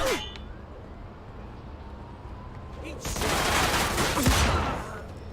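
Gunfire in the crime action game Mafia II, with a sustained burst of loud automatic shooting swelling midway over rumbling game ambience, sounding close and dense.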